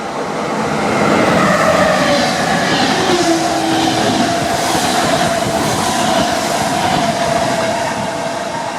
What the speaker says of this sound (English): let's take a look at a train station at night